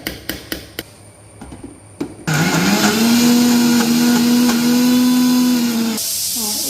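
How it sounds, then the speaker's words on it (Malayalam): A few sharp taps and knocks, then a mixer grinder roars to life and grinds jackfruit seeds loudly and steadily before slowing near the end. "ഒന്ന് മിക്സിയിലിട്ട് നന്നായിട്ടൊന്ന് അരച്ചെടുക്കണം"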